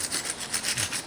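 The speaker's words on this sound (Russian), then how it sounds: "Чищу скобы от пыли и грязи. Щеткой по металлу с двух сторон." A wire brush scrubs dust and grime off the metal brake caliper brackets of a 2011 Chevrolet Cruze during a front pad change, making close, rhythmic rasping strokes in quick repeated bursts.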